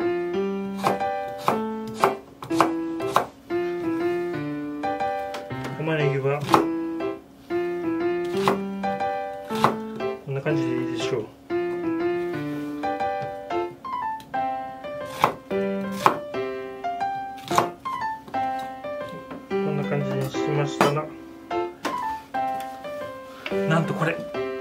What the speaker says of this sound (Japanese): 人参も大幅に切ってからの、